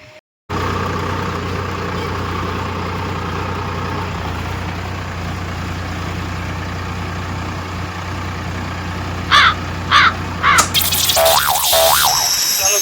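A tractor engine idles steadily and loud up close with a constant low drone, then a few sharp bursts near the end as something else sounds over it.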